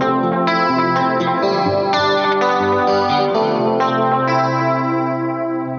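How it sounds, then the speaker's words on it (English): Electric guitar through an Eventide H9 running the H910 chorus setting, playing chords alone with a thick, shimmering chorused tone that rings out loud and sustained across the whole passage, with no talking. "the H910 chorusing on the H9 is probably my favorite sound on the whole box"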